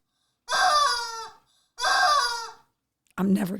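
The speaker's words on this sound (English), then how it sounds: "Silly sound, more fun. It's a chicken in a bikini." A novelty chicken-in-a-bikini squeeze toy lets out two loud, drawn-out squawking clucks close up, with a short pause between them, followed by the start of a third sound at the end.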